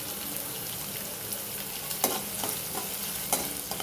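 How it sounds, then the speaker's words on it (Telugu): Chopped green chillies frying in hot oil in a pan for semiya upma, a steady close sizzle with occasional crackles and the scrape of stirring. "2 మినిట్స్ వేగనిద్దాం."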